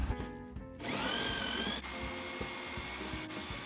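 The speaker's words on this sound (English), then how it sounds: "I'm drilling these halfway through, and then I'll finish them from the outside" A power drill bores holes partway through wooden bird blocking between roof framing, a steady whining drone running for about three seconds after a brief start, close and moderately loud.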